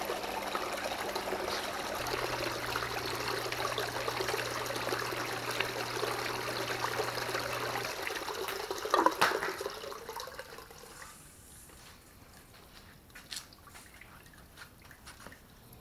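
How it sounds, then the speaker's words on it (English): Water drains and trickles from a small homemade recirculating sluice box, a steady close flow that tapers off halfway through into faint drips and silence. "Let all that water drain off,"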